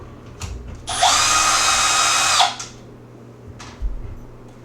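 A power drill backs a screw out of the rear of a Traxxas Slash 4x4 RC truck body, one steady high whine lasting about a second and a half, close and loud, with small handling clicks before and after.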